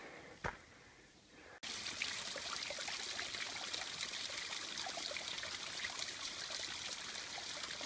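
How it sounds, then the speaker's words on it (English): A rocky mountain creek beside a steep trail near Blodgett Peak, Colorado Springs, rushes in a steady, loud wash of flowing water after a brief click and a quieter opening moment. "Still following this creek"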